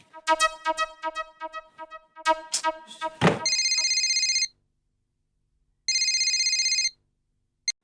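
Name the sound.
telephone ringing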